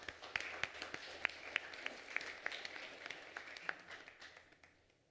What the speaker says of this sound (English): Maybe a round of applause for at-large.